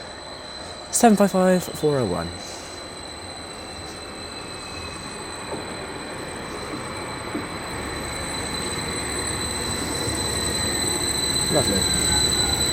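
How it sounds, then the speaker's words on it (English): A Greater Anglia service from Norwich to Great Yarmouth arriving at Berney Arms station, with a low rumble that swells gradually as the train draws near, after brief talk from a person at the start. "coming in now is going to be our train, the 11:55 Greater Anglia service from Norwich to Great Yarmouth via Reedham and Berney Arms"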